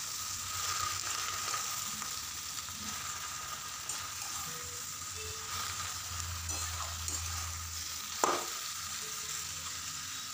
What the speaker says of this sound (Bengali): শাকটা দেওয়ার পরে ভালোভাবে মিক্স করে নিচ্ছি।